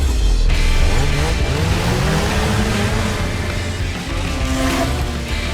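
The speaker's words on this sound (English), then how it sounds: "Get ready to fire on all cylinders with the new Rotax 600 RR E-TEC engine." Lynx snowmobile powered by a Rotax 600 RR E-TEC engine, a loud continuous engine roar with rising and falling revs and a steady, dense mechanical drone throughout, no voices.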